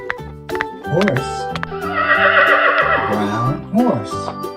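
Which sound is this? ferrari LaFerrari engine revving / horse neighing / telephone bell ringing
horse neighing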